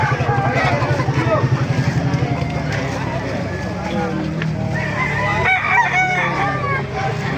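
A six-month-old Golden Boy sweater gamefowl rooster crows nearby at a busy outdoor poultry market, with people talking and other chickens clucking in the background.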